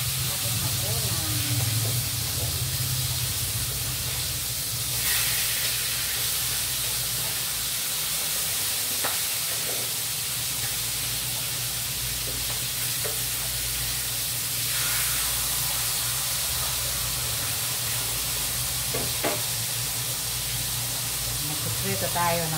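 Fish frying in a pan gives a continuous broad hissing sizzle, steady and moderately loud throughout, with faint background sounds now and then.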